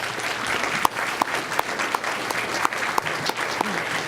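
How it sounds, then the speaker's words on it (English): An audience applauds panel participants at an academic conference, a moderate, steady patter of many hands with a few sharper individual claps standing out above the crowd. "we should give a big round of applause for our 4 participants"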